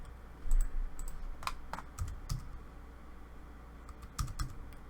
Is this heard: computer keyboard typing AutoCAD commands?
yes